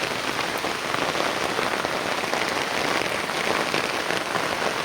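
Steady heavy rain pours onto a rooftop, a dense, even hiss of countless drops that holds throughout with no voices.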